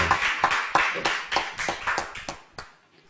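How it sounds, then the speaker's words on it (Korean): Church congregation clapping together after a prayer in a Sunday afternoon service: a steady run of sharp, fairly loud claps in a regular rhythm, roughly three per second, fading slightly toward the end. "우리 하나님께 영광의 박수 올려드리겠습니다."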